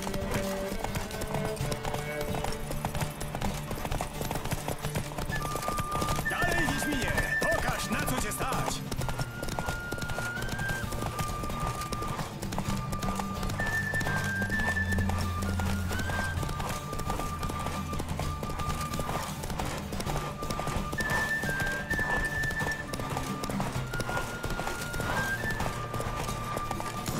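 Horse hooves clip-clopping at a steady gallop through a race in The Witcher 3, with occasional whinnies over game music and voices talking throughout.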